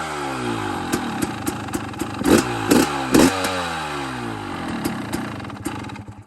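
A 2021 KTM 300 XCW dirt bike engine idles close by with a steady two-stroke patter, then blips sharply through three quick revs before settling back to a rattly idle, with a few light clicks over it.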